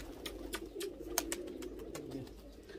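Soft coos from pigeons in a breeding loft sound against steady background hum, with a few sharp clicks and flutters nearby.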